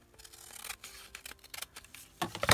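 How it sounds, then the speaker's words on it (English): Scissors snip through envelope paper to trim a pocket for a papercraft embellishment, a faint, close series of irregular crisp cuts and rustles with small pauses between them. "we'll just cut it a little more"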